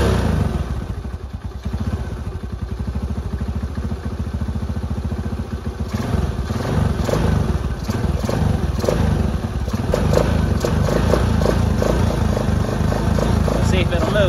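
Engine of an old free four wheeler running without the choke, a rough loud idle with rapid chugging pulses and clattering, close up, growing busier partway through with brief voices over it.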